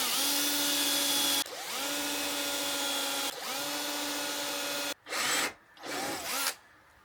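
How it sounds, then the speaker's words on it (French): A Parkside power drill whines close by as it drills out a broken screw on a Mazda RX-8. Two long steady runs give way to several short stop-start bursts. "Donc maintenant, il va falloir percer tout ça."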